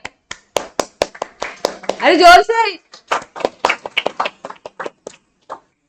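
Students in a class break into a burst of clapping, sharp claps in quick uneven rhythm, with a teacher's voice talking between them.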